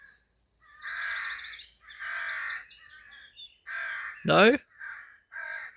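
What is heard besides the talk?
birds calling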